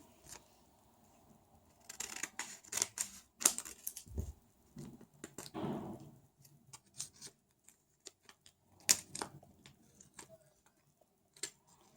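Paper surprise packages being opened by hand, with rustling, tearing and crinkling of paper in short bursts and scattered taps at close range, no voices.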